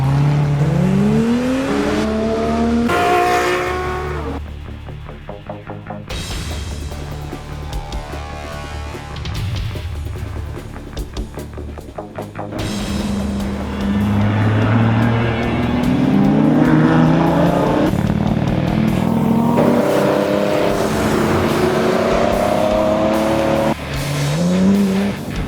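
Fast cars run a winding scenic road during the Cannonball Run: engines rev and shift hard, revs rising and falling through gear changes, with loud close engine roar throughout and no talk.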